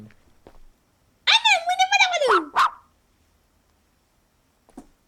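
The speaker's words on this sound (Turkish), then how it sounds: "Köpek lan o." A dog in a bus-driving video game gives one loud, close burst of wavering barks and whines lasting about a second and a half, followed by near silence with a faint click near the end.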